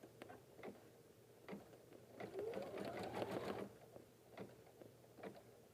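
Home embroidery machine stitching placement lines for an in-the-hoop gift bag, a rapid rhythmic mechanical clatter with soft ticking, steady and close, fairly quiet with brief pauses.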